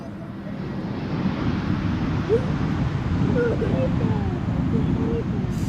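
A Boeing 737 MAX 8 airliner at Schiphol Airport gives a broad, steady engine roar, distant and constant, with wind rumble over the microphone throughout.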